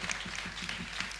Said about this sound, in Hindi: तालियां आपकी रुकनी नहीं चाहिए।